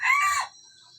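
A jungle fowl decoy rooster crows once, loud and close, with a short bright call that cuts off after half a second and leaves a quiet outdoor background.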